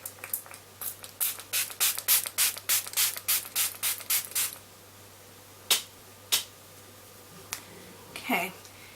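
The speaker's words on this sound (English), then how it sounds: "Okay, so I'm just going to spray this all over my skin." A bottle of PS Primer Water facial mist is pumped in a rapid run of short, close sprays, then a few separate bursts follow after a pause.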